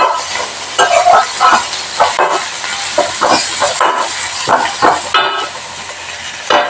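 Mashed tomatoes being stirred and fried in a pan: close, loud scraping strokes in an irregular rhythm over a constant sizzle.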